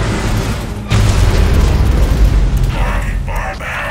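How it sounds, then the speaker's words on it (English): A nuclear weapon detonates in the Command & Conquer Rivals strategy game, a sudden deep booming blast that swells into a long, heavy rumble, with game voice lines and effects layered over it. "Nuclear weapon launched."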